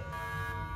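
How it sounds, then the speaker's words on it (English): An airport alarm sounds steadily and at a moderate level as a continuous buzzing tone with layered harmonics, with no speech heard. "What's that sound? That's the alarm."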